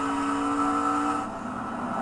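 NASCAR race cars roar at the U.S. Cellular 250, a steady high engine whine that is loud and sustained and fades slightly near the end, with no talking.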